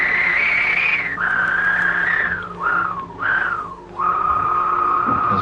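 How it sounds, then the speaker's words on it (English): A synthesizer tone sustains and bends in pitch, swooping down and back up in a few glides before settling into a steady note that trails off in a long decay, clear and alone, standing in for a mouse slipping back into its burrow. "That's the sound of the mouse disappearing back into its burrow."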